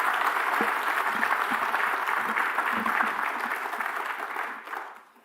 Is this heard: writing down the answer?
no